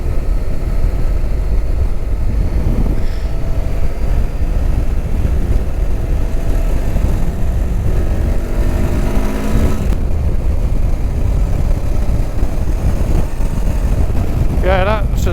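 Voge 525 DSX motorcycle with a stifled Euro 5 engine, heard while riding on the road: a steady engine drone under heavy wind rush, with a brief rising rev near the end.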